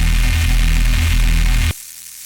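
Dense, steady high-end hiss and sizzle over a drum and bass track plays loudly, then cuts off abruptly to a quieter tail.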